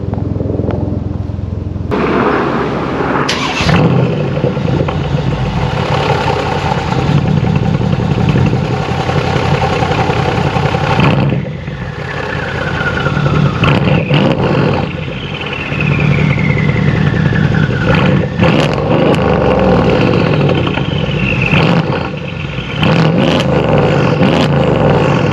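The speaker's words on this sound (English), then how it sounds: "a little better sound clip of the way the AMG is sounding now with the downpipes" A deep, throaty Mercedes CLS63 AMG engine, tuned Stage 2 with downpipes, idles and revs steadily for the whole stretch, with a few sharper revs and clattery pops along the way.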